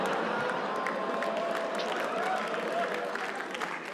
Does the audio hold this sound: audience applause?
yes